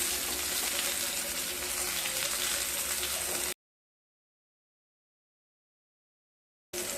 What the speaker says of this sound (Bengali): লো স্টিমে মশলাগুলোকে হালকা ভেজে নিতে হবে